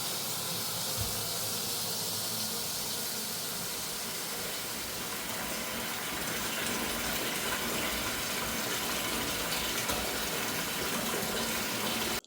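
Water pours steadily into a container being filled ahead of a hurricane, a continuous hissing rush that holds level throughout without pause.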